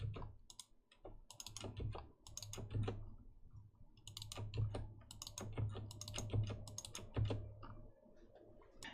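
Keys clatter on a computer keyboard during coding work in Unity, with irregular bursts of close, crisp clicks and short pauses, no talking.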